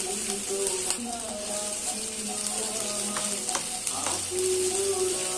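Food frying and sizzling in a pan for simple fried mixed rice before eggs go in, a steady hiss with occasional scrapes and clinks, under faint background tones.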